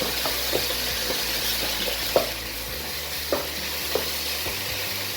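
Ginger and garlic frying in a pan for a minced-meat pasta sauce keep up a continuous close sizzle, broken by a few soft scrapes and taps of stirring, with no voices.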